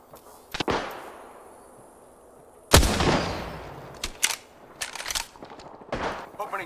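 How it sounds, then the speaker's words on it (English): Gunfire at an outdoor shooting target, several loud sharp cracks with one big blast followed by a string of quicker shots, close and echoing, with faint voices in between. "Opening fire."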